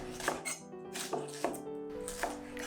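A knife chops steadily through cabbage on a board, four or five crisp, close strokes with a faint ringing tone beneath.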